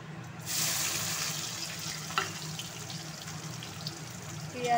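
Chopped onions go into a hot pan for a Bengali-style soybean curry, setting off a sudden, steady hiss of sizzling oil that carries on close and loud.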